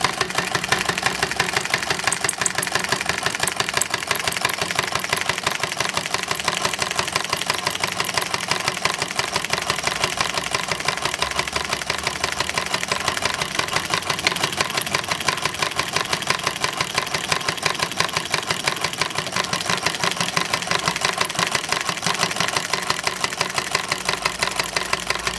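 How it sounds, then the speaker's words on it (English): A sewing machine sews a straight stitch, running steadily with a fast, even mechanical chatter and hum, close and unbroken for the whole stretch. "That's the best this machine can do, a straight stitch."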